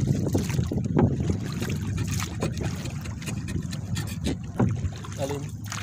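A small wooden boat moving on sea water, with soft splashing and wind noise, while people talk nearby throughout.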